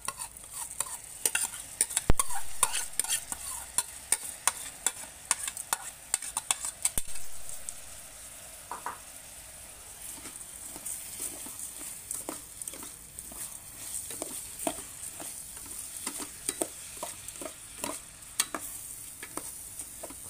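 Rice stir-fried in a pan, a spatula scraping and tapping in frequent irregular clicks over a faint steady sizzle, close up with no talking.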